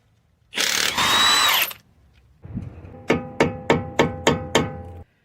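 Power tool removing a 21mm lug nut from a 2011–2016 Toyota Sienna during CV axle work: a whining hiss burst, then a motor spin-up and a run of about six sharp rapid impact blows, close and loud.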